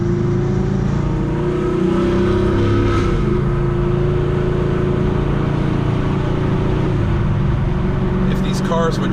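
Cammed Chevrolet Camaro SS V8 rumbling steadily from inside the cabin while driving on a road, a loud continuous low drone with a lopey idle character and slight swells, with talking over it.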